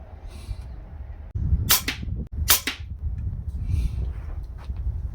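Two sharp, close cracks from a sub-12 ft-lb Anschutz 9015 .177 air rifle firing ZAN slugs, about half a second apart, over outdoor wind noise with no voices.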